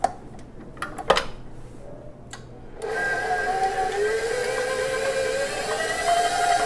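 Electric stand mixer kneading bread dough on speed 3 in an intensive mix, first a few scattered clicks and knocks, then a steady motor whir with a rising tonal hum that runs on continuously and fairly loud.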